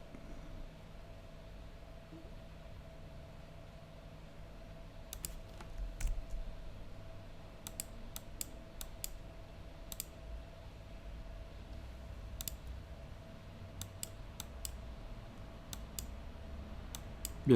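Light, quiet clicks of a computer mouse sound over a low room hum during work in Adobe software, coming in irregular bursts with no talking.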